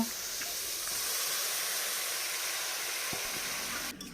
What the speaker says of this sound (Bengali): যখন কড়ার ভিতরে অল্প একটু তেল থাকবে তখনই গিয়ে এখান থেকে অল্প একটু লাউ নিয়ে কড়ার ভিতরে দিয়ে দেব